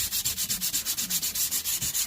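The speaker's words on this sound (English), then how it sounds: "people will probably be horrified that I'm going up on metal with some 120 grit sandpaper" Metal body of an old hand plane being sanded by hand with 120 grit sandpaper lubricated with WD-40, a steady rhythmic back-and-forth rasping of about a dozen strokes, close and alone.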